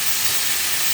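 Potatoes and onions fry in a pan, giving a steady, close hiss that stays even and unbroken for one brief second.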